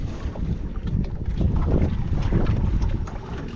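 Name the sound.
strong wind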